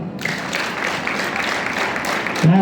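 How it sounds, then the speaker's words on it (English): Students at a school morning assembly clap together in a sustained, even burst of many hands, loud and close, with a brief low voice near the end. "Hands up. Clap."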